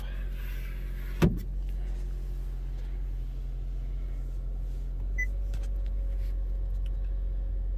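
Power sunroof on a 2020 Honda Civic Touring running, with a sharp click near the start followed by a low, steady electric motor hum that shifts slightly partway through, quiet and without speech.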